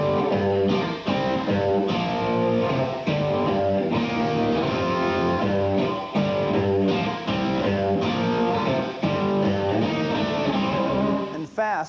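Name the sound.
electric guitar melody played with pivot notes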